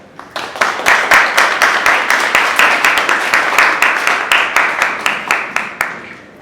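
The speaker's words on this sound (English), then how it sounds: "So give them a big round of applause." Loud, close applause with steady rhythmic claps, about four a second, keeping an even pace for several seconds.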